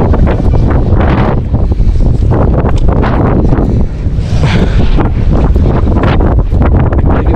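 Strong wind gusts across the sea, roaring steadily and loud into the microphone throughout, with broadband rushing that never lets up and may carry water and boat noise beneath.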